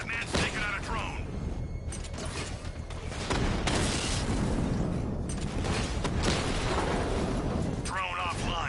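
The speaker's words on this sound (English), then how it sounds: "Batman's taking out a drone." Batman takes out a drone in Batman Arkham Knight, with loud game combat crashing, bursts and mechanical clatter running throughout, and voices speaking over it.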